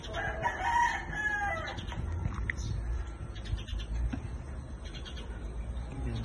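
Rooster crowing close by with one long cock-a-doodle-doo near the start, then clucking and farmyard noise over a low rumbling background.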